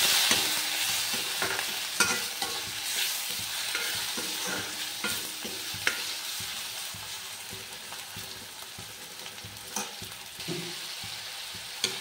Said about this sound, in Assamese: এতিয়া ইয়াক মই ভালদৰে লৰাই থাকিম।